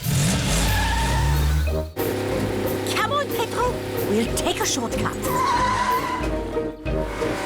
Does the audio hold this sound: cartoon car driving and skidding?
yes